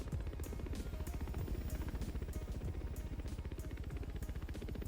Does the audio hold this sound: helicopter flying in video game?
yes